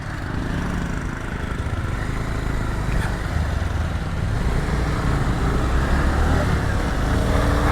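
A scooter engine drones steadily and loudly while climbing a hill road toward Nilachal in Bandarban, with constant rumbling and wind noise throughout.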